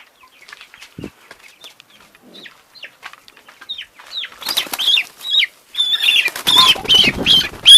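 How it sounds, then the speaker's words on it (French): Chicks from a small home flock peep in rapid high chirps that build from sparse and faint to a dense, loud chorus, with wing flutters and scuffling close by. "Donc les poussins."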